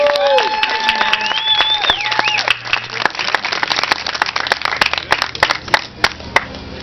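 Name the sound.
audience applause at an awards event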